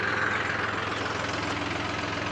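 A tractor engine runs steadily outdoors on a farm, a low continuous rumble with a regular throbbing pulse, fairly close and alone without talk.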